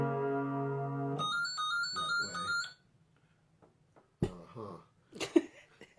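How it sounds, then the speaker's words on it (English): A phone rings with an incoming call: a steady electronic tone gives way to a quick melodic ringtone pattern, then it cuts off, followed by quiet and a few brief vocal sounds and a short spoken word. "This is a phone call we're not going to take."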